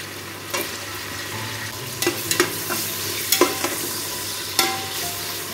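Tomatoes frying with spices after the onions have browned, stirred in a pan: a low, soft sizzle under a steady hum, broken by several distinct scraping and clinking stirring strokes, without speech.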